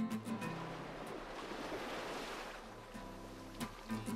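Ocean waves at sea rolling in a steady broad wash of surf, with gusts of wind buffeting the microphone and a low tonal hum underneath throughout.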